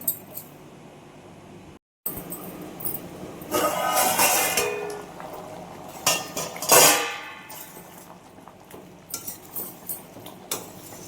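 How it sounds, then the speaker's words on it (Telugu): A metal lid clinks and clatters onto a cooking pot of simmering taro stew, with a couple of distinct metallic knocks over a steady low kitchen background. "ఇప్పుడు మూత పెట్టేసి ఉడికించుకుంటున్నాను."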